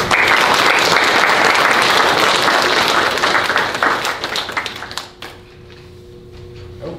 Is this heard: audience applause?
yes